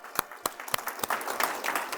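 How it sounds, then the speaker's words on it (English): An audience claps in applause after a motivational real estate seminar. Sharp separate claps come first, then more hands join in, and the claps grow denser and a bit louder over two seconds. "clap it up for yourselves, man"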